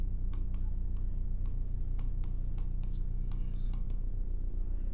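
Pen writing on paper while a maths problem is worked, soft scratchy strokes in short irregular bursts over a steady low hum, close and quiet.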